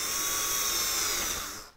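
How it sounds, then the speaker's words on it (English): A power drill bores a hole for soft-close drawer slides, a steady high whine that runs for over a second and then winds down as the motor stops. "you gotta drill it right where the hook wants to be in order to keep your drill parallel"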